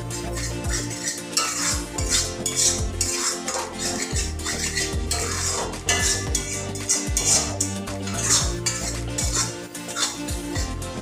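Chital fish paste frying with spices in a pan while a spoon stirs and scrapes it, giving repeated metallic clinks and scrapes over a soft sizzle, close and fairly busy throughout.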